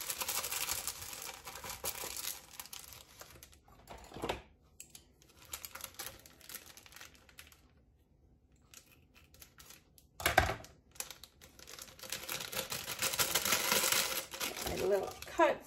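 Plastic package of bread dough mix being handled in a kitchen, with loud bursts of crinkling at the start and end and a couple of sharp rustles between quieter stretches.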